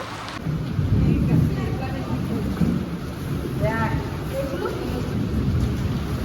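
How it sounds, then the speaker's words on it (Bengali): Rain falling steadily with a roll of thunder as a storm begins outdoors, a dense wash of noise carrying a low rumble that swells early on and lingers under the downpour. "আর এখন বৃষ্টি শুরু হয়ে গেছে"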